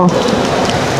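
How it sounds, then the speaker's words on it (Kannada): A brief burst of loud, dense rain hiss at Sai Teerth theme park in Shirdi, close and steady without a break. "ಫುಲ್ ಮಳೆ ಬರ್ತಾ ಇದೆ."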